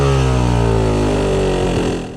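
A Yamaha YZ250 two-stroke dirt bike idles rich, its loud, close engine burbling steadily with a slightly uneven, dull tone that shifts near the end.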